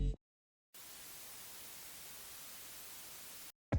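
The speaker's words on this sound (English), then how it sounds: "I also downloaded a static sound effect to use with the visual change." A static sound effect used for a live stream's visual change: a steady, even burst of hissing white-noise static lasting nearly three seconds, starting and stopping abruptly between near-silent gaps.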